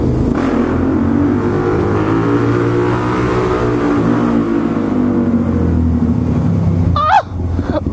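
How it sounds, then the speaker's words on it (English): Loud supermoto motorcycle engine roaring and echoing inside an enclosed passage, a sustained droning rumble that shifts in pitch, ending with a brief sharp squeal. "Bro, my bike is so loud in here."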